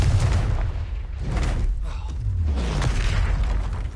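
Bombarda blasting spell explosions in Hogwarts Legacy, a series of loud, heavy booming bursts packed close together over a continuous rumbling roar, with no talking.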